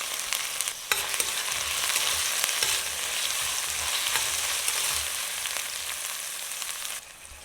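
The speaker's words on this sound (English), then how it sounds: "Add the onion and hot pepper. And we'll cook until it becomes translucent." Chopped onion and hot pepper fry in a pan, giving a loud, continuous sizzle with faint stirring scrapes, alone and close up throughout.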